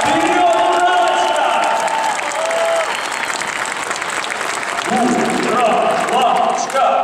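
Volleyball fans in an arena cheer and applaud nonstop at a Champions League match between Uralochka-NTMK and Dynamo-Kazan, a loud, dense crowd roar with clapping and shouts rising again near the end.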